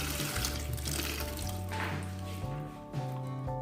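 Fresh mussels rinsed under a running tap, with steady splashing water, wet shell clatter and squishy handling sounds close by, the flow shifting in intensity as they are moved around.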